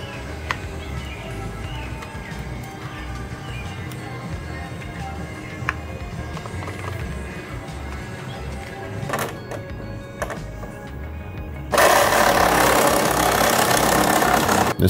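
A reciprocating saw (Sawzall) cuts a concession window opening in a food truck body with a steady, close mechanical buzz that swells much louder and harsher near the end.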